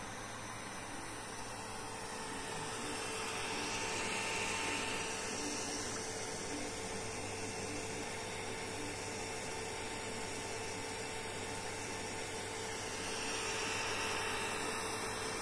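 Cooling fans of an Ender 3 3D printer, fitted with TMC2208 drivers, whir in a constant, even drone with a steady hum, swelling slightly now and then, with no one talking.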